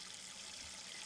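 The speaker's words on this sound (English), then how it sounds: "starts running tap water into my rice cooker" Tap water runs into a rice cooker in a steady, even hissing stream that continues throughout, fairly quiet and unbroken.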